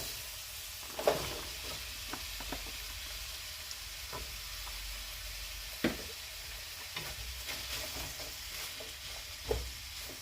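Thinly slivered onions cooking down in a pan for Texas picadillo, a quiet, even sizzle broken by a few sharp utensil taps, without speech.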